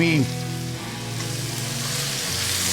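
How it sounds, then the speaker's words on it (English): Sirloin steak searing in a hot skillet, a loud close steady sizzle with crackling spatter that continues without pause. "to do it in the skillet a couple minutes on each side to get a nice sear."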